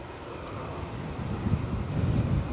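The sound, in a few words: gusty wind blowing at Edinburgh Airport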